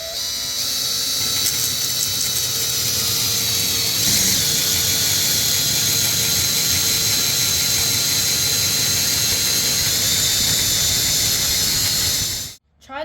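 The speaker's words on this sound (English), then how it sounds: "We are going to start with a 1-inch drill bit so we don't make it too big." A power drill fitted with a 1-inch bit boring into a tiki torch skull, one long continuous high whining grind lasting about twelve seconds, close and loud, cutting off abruptly at the end.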